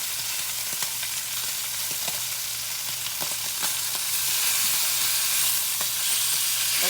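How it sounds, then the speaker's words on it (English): Ham fries in a pan with a loud, continuous crackling sizzle heard up close, broken by a few sharp pops and occasional light utensil taps. "Frying ham makes a mess, but it sure is good"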